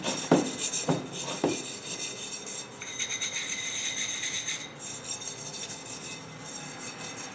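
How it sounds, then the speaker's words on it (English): Sandpaper rubbed gently over a stainless steel slumping mold to roughen it and clear rust, a few sharp scrapes at the start, then a continuous close, dry rasping of strokes with no talk. "I'm gonna take this sandpaper and just very gently go over the mold."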